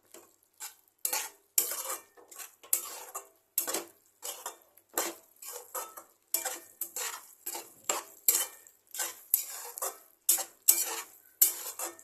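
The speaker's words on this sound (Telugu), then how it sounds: "మొత్తం ఒకసారి బాగా మిక్స్ చేసుకుందాం" A spoon stirs egg masala curry with fried eggs and coriander in a pan, giving a string of close, crisp scraping and clinking strokes in an uneven rhythm with short pauses between them.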